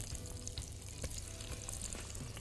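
Onions drop into very hot butter in a pot and sizzle steadily, a soft continuous frying hiss with faint stirring scrapes, heard alone without talk.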